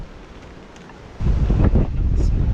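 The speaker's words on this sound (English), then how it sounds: "Get this gust coming." Gusty wind in a snowstorm in the Victoria High Country, a steady low rush that swells sharply into a stronger, louder gust partway through and keeps roaring.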